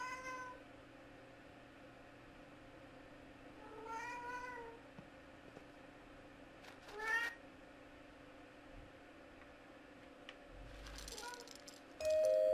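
A cat meows several times in the Alfred Hitchcock's Vertigo video game, moderately close amid a quiet room ambience with faint rattles and a tone near the end.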